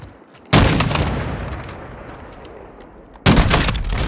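Gunfire in the Call of Duty Warzone battle royale game, with two loud, sharp bursts of shots roughly three seconds apart and a rumbling decaying tail between them.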